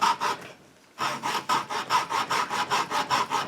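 A hand saw makes short rasping strokes at close range as it starts a cut in wood. After one stroke there is a brief pause, then a steady rhythmic run of about a dozen back-and-forth strokes.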